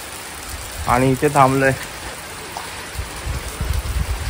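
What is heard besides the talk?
rain falling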